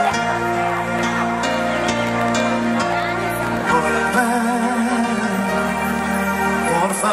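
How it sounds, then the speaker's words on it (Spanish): Piano playing the introduction of a song at a live orchestra show in Gran Canaria, with sustained chords and a clear melody over a steady low bass. The playing is loud and continuous, with no voice. "Al piano, el maestro Wilson."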